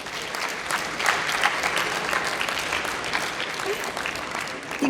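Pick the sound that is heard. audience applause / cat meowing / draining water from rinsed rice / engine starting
audience applause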